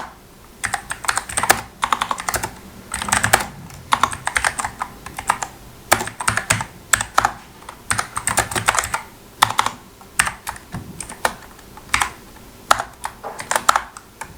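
Keys clatter on a computer keyboard as a line of code is typed, a close, steady run of quick clicks in bursts with brief pauses, heard alone without talk.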